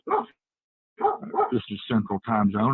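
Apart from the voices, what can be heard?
dogs barking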